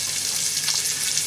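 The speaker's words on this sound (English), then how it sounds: "So at this point we can get in the onions" Onions sizzle in a hot pan for fiery chilli con carne, a short burst of dense, bright, steady hiss heard up close with no talking.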